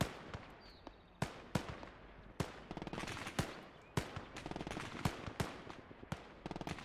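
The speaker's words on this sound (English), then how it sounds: "I'm gonna try to get my sniper to take that guy out" Sharp gunshots from a Gates of Hell battle crack out one after another at irregular intervals, loud and close, with scattered distant firing and a busy combat din between them.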